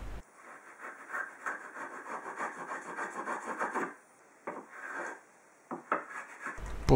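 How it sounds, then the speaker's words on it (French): Wood chisel paring a notch in wood: close, dry scraping strokes in quick succession, a rasping run of cuts followed by a pause and a few shorter scrapes. "J'ai néanmoins peaufiné l'entaille au ciseau à bois."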